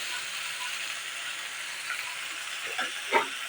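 Ginger, garlic and chili paste hitting a pan of already fried onions while cooking a stingray fish curry: a faint, steady sizzling hiss with a few soft clicks and scrapes near the end.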